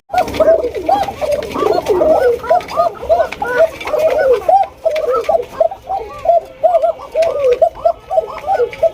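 A flock of pigeons at a breeding farm, including a pair of red Koka pigeons, coo loudly and continuously, many overlapping rolling calls close by.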